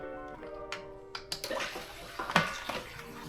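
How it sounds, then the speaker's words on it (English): Water is poured into a planted aquarium tank with fish after a water change, splashing and gurgling close by in uneven pours over a faint background hum. "I may have to add a little more water"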